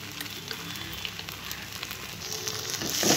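Maggi noodles with masala cooking in a pan, heard as a soft, continuous sizzle and light hiss that swells slightly toward the end, with no talking.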